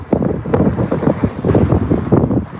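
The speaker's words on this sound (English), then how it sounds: "It bloody is windy." Strong wind buffets the microphone outdoors during a dog walk, producing loud, gusty low rumbling bursts that pulse irregularly throughout, with no talk.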